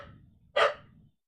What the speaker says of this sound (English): Because now my dog's gonna bark.